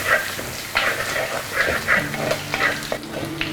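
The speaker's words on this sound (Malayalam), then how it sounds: "കുറച്ച് പച്ചവെളിച്ചെണ്ണയൊക്കെ ഒഴിച്ച് നന്നായിട്ടൊന്ന് സോട്ട് ചെയ്തെടുക്കണം" Green peppercorn masala with curry leaves sautéing in coconut oil, a steady sizzle with scraping stir strokes recurring through it, close and fairly loud, no voices.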